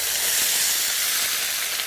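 Curd sizzling as it is tossed into hot ghee with browned cumin seeds, a steady, loud broadband hiss that fills the short moment with no break and no voices.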